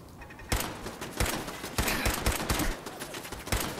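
Gunfire aimed at a machine gun turret in Fallout 4: a steady run of loud, close single shots, roughly six or seven sharp reports spaced a fraction of a second apart over a constant combat background.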